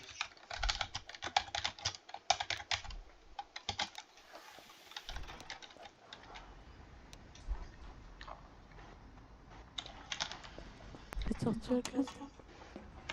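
Rapid computer keyboard typing, clattering in quick bursts throughout under frequent nearby talk, with a louder flurry of keystrokes near the end.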